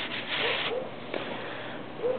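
Short, faint scuffing strokes of steel wool rubbed across a part, a few soft rasping passes close by with quiet pauses between them.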